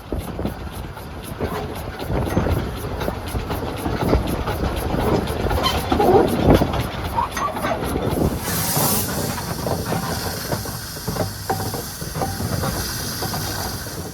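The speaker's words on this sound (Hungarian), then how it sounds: "Jó volt így kívül is látni a vonatot." Triglav steam locomotive on a narrow-gauge railway at Kemence station, heard as a steady rumbling run with hissing steam and rolling rail noise, then a sharp hiss burst near the middle before the train keeps rumbling on.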